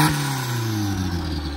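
Turbocharged 1995 Honda del Sol Si engine held at steady high revs, a loud, close, continuous drone with a fluttering turbo texture running throughout.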